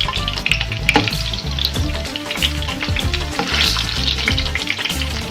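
Chicken koftas frying in hot oil, a dense, loud bubbling sizzle with a busy crackle that carries on steadily from start to finish, with no talk over it.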